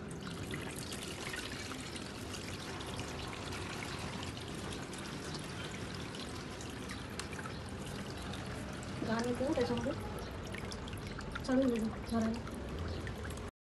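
Water poured into a home aquarium fish tank after cleaning, a steady low splashing rush throughout, with a couple of louder surges near the end and voices faintly in the background.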